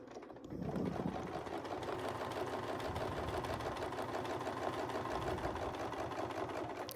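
A sewing machine starts up after a brief pause and stitches along a ruler line for a Westalee quilting design, its fast, even needle clatter close and steady throughout with no speech.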